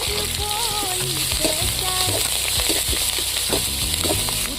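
Sliced onion, dried red chillies and curry leaves fry in oil in a pan, a loud continuous sizzle with stirring scrapes throughout and a faint voice underneath.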